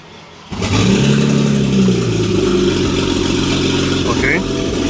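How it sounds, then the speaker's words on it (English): A BMW 535xi E60 with fresh coil packs, after a misfire fault, cranks and catches, its engine rising to a steady loud run that holds for several seconds. "Trying to start the car."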